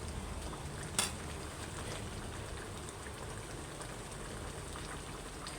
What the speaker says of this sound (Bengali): এই যে আমি কষাচ্ছি, এখন একটু হালকা নরম নরম থাকবে, ঝোল ঝোল থাকবে।